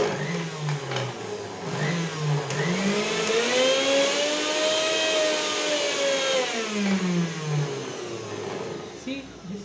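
A kitchen mixer grinder with a regulator knob runs steadily for several seconds, its motor whine gliding up in pitch and then back down as it spins, loud and close with no other sounds over it.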